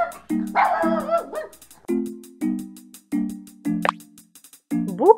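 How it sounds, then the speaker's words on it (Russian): A puppy yaps in a series of short, close barks and yips, spaced irregularly, over light cartoon music. "Щенок."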